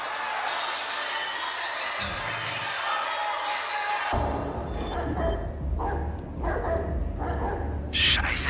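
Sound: dogs barking in video game Watch Dogs 2

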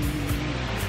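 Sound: sea waves breaking on a beach

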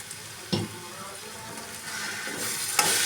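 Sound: frying soya chunks (nutri) in a pan

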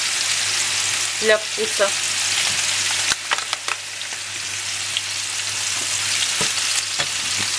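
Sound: jamón frying in a pan

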